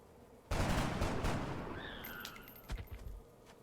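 Sharp gunfire from XCOM: Enemy Unknown, a single loud blast followed by a decaying rumble, some synthetic tonal effects and a few smaller cracks near the end.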